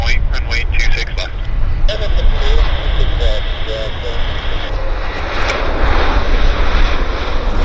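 An airliner takes off from Vancouver Airport, its loud engine roar steady and sustained throughout, with faint radio chatter and talk under it.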